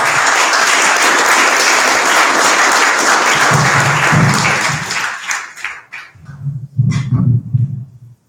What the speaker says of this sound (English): let's big round of applause